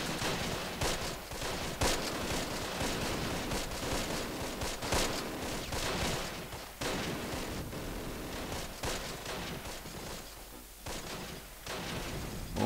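Gunfire in the World War II strategy game Close Combat, a dense, continuous fusillade of rifle and machine-gun shots crackling at mid distance over a constant hiss of battle noise.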